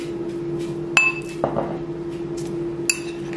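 A burger filling with pickles, vinegar, salt and pepper is mixed by hand, giving a few sharp, isolated clinks and soft scrapes against a bowl over a steady background hum.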